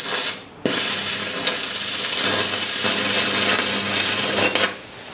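A small portable inverter welding machine cutting through a welded iron angle piece, a steady loud crackling hiss that starts abruptly and runs for about four seconds before cutting off, close up with no talking.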